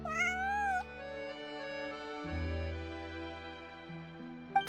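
A cat meows inside the video game Genshin Impact, one clear rising meow at the start and a short sharp cry at the end, with sustained musical tones playing underneath throughout.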